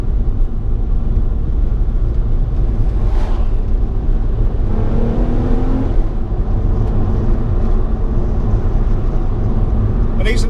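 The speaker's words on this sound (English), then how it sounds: "Oh, here comes a Mustang." A Ford Mustang passes on a mountain road, heard as a loud, low engine rumble and road roar that stays fairly steady, while a voice talks briefly partway through.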